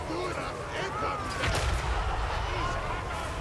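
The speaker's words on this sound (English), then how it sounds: "The rattling guns are a bit of a nuisance at the moment." In the Total War Warhammer 3 video game, rattling guns and artillery keep up a dense, continuous roar of battlefield fire, with heavy booms rolling under a steady rattle across the whole stretch.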